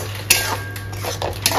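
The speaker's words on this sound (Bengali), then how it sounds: "তাহলে আমি একটু নাড়াই দিই" A metal spoon scrapes and stirs cumin powder and ground chili in a cooking pan for a Bengali rohu fish egg pakoda curry: a few close, distinct clinks and scrapes over a steady low background hum, with no talking.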